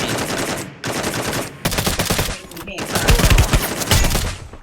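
Automatic weapons fire in the battle-royale video game Free Fire: rapid, loud bursts of gunshots rattle in quick succession, separated by short gaps of near silence.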